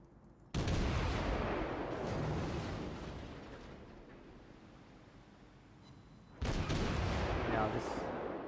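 Naval shells from enemy destroyer fire land in a warship video game around a Tier 3 cruiser: two loud booming impacts several seconds apart, the first rumbling and slowly fading before the second hits.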